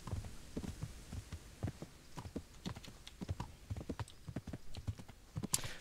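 Horse hooves clip-clopping at a steady riding pace in Kingdom Come: Deliverance, a soft, continuous rhythmic patter of hoofbeats over a faint background hum, fairly quiet throughout.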